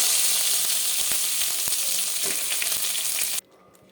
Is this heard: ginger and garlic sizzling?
yes